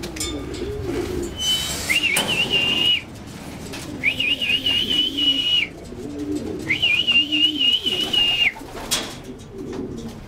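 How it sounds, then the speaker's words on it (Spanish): Pigeons waiting to be fed coo in low, throaty repeated bursts close by, while a high steady whistle-like tone rises and holds three times over the flock, with faint rustling and movement between calls. "Están botaneando las palomas, vamos a darles su comidita."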